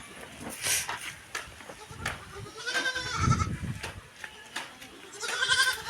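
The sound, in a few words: goat kids bleating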